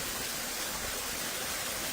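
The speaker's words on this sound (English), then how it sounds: "water from the lake is pouring into them" Lake water on Banks Island pours steadily into deep sinkholes, a constant broadband rushing roar like a waterfall with no pauses, heard alone.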